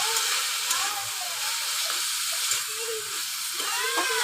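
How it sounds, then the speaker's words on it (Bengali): Fish frying with salt in a hot pan, a loud continuous hiss and sizzle with faint background tones underneath, steady throughout. "স্বাদ মতো লবণ দিয়ে আমি ভালো করে ভাজবো তাকে"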